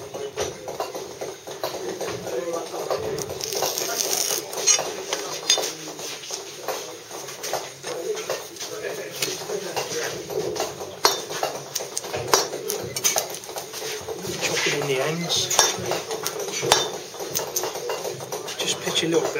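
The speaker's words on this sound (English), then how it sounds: "take a bit of the waste off both chamfers with the claw tool" A stone mason chips waste off the chamfers of a stone with a claw tool, giving a steady run of sharp, close metallic taps and clinks at an irregular pace, with a voice talking over it.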